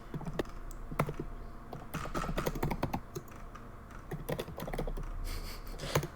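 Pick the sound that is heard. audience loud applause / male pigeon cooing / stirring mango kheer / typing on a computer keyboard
typing on a computer keyboard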